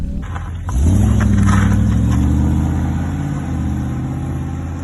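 A Triumph Stag V8 starts and pulls away, its low engine rumble swelling suddenly and then holding a steady, loud drone close by with no talk.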